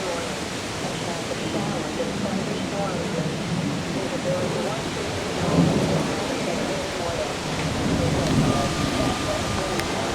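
A dry thunderstorm with strong wind gusts makes a steady, loud roar, with deep thunder rumbles swelling up about midway and again near the end.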